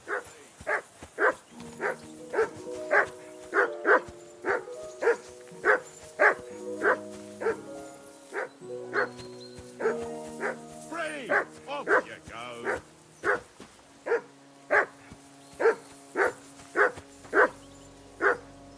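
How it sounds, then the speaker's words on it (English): A dog in the game Kingdom Come: Deliverance 2 barks loudly and rhythmically, one bark after another for the whole stretch, over a low musical drone. "That dog of yours is barking like the devil."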